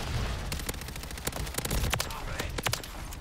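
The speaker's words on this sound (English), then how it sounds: "God, this SMG is so nasty," Submachine gun fire in a video game, rapid sharp shots in uneven bursts over a dense, noisy background of game sound, fairly close and loud throughout.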